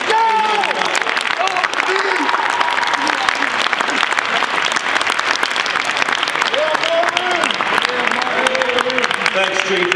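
Sustained applause and cheering from a crowd at a high school football banquet, dense clapping with whoops and shouted voices running steadily throughout, loud and close.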